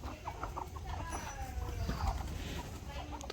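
Hens clucking inside a farm shed, several birds calling in short uneven bursts close by, over a steady low rumble of background noise.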